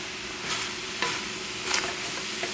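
Mushrooms and shallots sweat in a pan over a high flame, giving a soft steady sizzle with a few brief scraping stirs breaking through, and no one talking.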